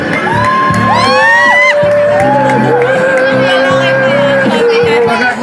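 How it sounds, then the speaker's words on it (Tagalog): A loud crowd roars and cheers, with whoops and shouted voices rising and falling over a dense, continuous din. "Pwede pong sumigaw?"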